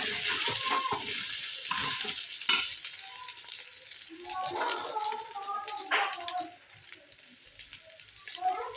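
Rice grains stirred and fried in a pan until browning, a steady sizzle with scraping stir strokes throughout, close and fairly loud, with brief background voices.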